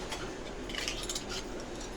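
Spoons clinking and rattling among kitchen pots and lids, producing faint, light metallic chinks in a quiet room with no talk.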